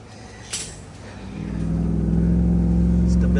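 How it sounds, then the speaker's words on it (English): A 2013 Chevrolet Silverado HD gasoline pickup accelerates on the street, its engine rising from a low idle-like rumble into a loud, steady droning pull heard from inside the cab after a brief knock. "We're gonna do some street driving, make sure she drives nice and smooth"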